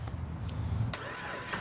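An old car's engine cranks and catches just after a battery swap, a short, close mechanical turnover that settles into a running rumble, with no talk.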